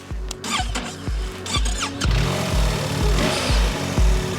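A BMW R 1300 RT motorcycle starting up, with a series of rhythmic low thumps as the engine cranks, then catching into a steady, louder running idle with a whining overtone, heard up close.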